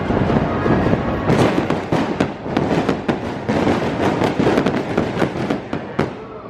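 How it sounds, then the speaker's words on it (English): Fireworks shoot out at the Animal Actors area of Universal Studios Orlando, making a rapid, loud series of bangs and crackling pops. The bursts overlap for several seconds under a constant roaring wash of noise. "Fireworks shooting out of animal actors."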